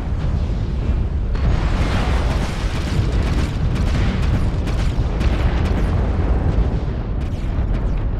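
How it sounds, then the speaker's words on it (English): An artillery strike in MechWarrior Online: a loud, continuous barrage of overlapping explosions, a thick roaring rumble with rapid crackling bursts that hardly lets up. "Artillery strike activated."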